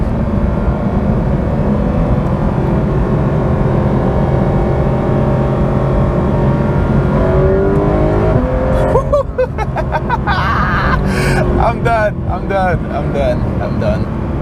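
A Porsche 911 GT3 RS is driven hard through a turn, its engine a loud, steady roar from inside the car, with tire and road noise building near the end while someone speaks over it.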